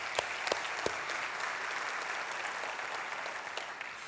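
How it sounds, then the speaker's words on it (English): Loud applause from a crowd at a city's State of the City address, dense clapping that stays steady throughout with a few sharper claps standing out. "How about a round of applause for them?"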